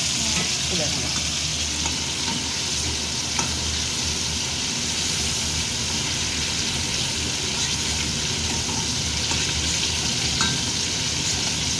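Headless prawns frying in a pan, a steady close sizzle running continuously with faint scrapes of stirring, no voices over it.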